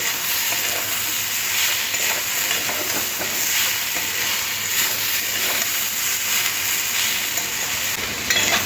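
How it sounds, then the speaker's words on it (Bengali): Potatoes and yardlong beans frying with onion in a pan, a continuous loud sizzle and hiss close up, with occasional stirring scrapes. "যারা নতুন রান্না শিখছ তাদের জন্য একদম সহজভাবে বরবটি আলুটা ভেজে নিলাম"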